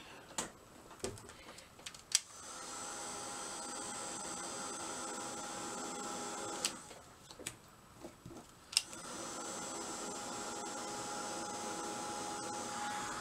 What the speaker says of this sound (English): You need to heat it up.